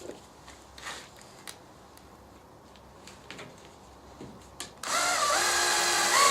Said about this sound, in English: I'm just screwing this aluminium angle to the support.